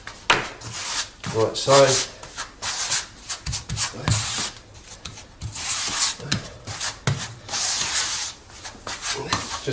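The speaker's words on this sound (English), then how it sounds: "get our squeegee, and then what we do is just pull it and start working it right into the joint" A squeegee works grout into the joints of floor tiles with repeated close rubbing and scraping strokes in an irregular back-and-forth rhythm; a voice speaks briefly.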